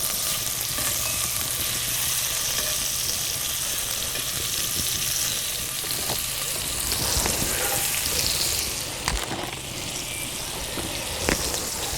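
Onions and mushrooms frying in a skillet over a campfire, making a dense, steady sizzle and crackle up close that eases slightly near the end, with occasional utensil taps.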